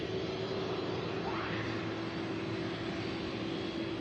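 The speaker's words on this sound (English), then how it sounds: "This aircraft here arriving from San Juan, Puerto Rico, UPS Flight 327" UPS Flight 327, a cargo jet, arrives at Louisville's Muhammad Ali International Airport, its engines a steady distant rumbling whine with a brief rising sweep as it passes, heard alone without talk.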